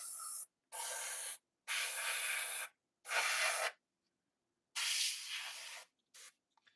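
A paint sprayer driven by an air compressor hisses in bursts of one to two seconds separated by brief silences, close and steady, with a faint compressor hum underneath.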